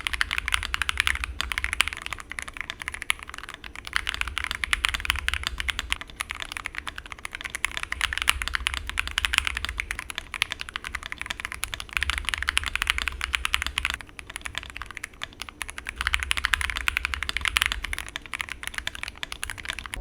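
Typing on an Epomaker Tide75 mechanical keyboard fitted with lubed Gateron Milky Pro Yellow switches: a steady, dense patter of soft, muted keystrokes runs throughout at close range, with no voices.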